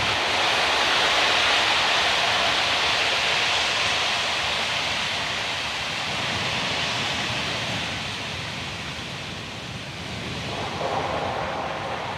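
Pressurized gas vents in a steady, loud broadband hiss from the TE line on a Falcon 9 strongback during launch closeout, holding constant with slight swells and no voices.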